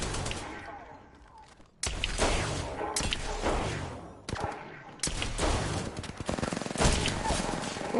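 Gunfire in the video game Apex Legends, with loud bursts of rapid automatic fire and single shots in several dense volleys, while a player talks over the action.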